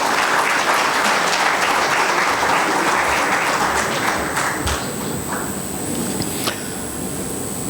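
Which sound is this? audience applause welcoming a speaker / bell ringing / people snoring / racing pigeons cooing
audience applause welcoming a speaker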